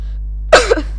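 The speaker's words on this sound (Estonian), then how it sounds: "Vabandage selle köha pärast." A single close cough bursts out halfway through, raspy and brief with a short second push, from a gamer commentating on Minecraft Hunger Games; a low steady hum sits underneath and nothing else is heard.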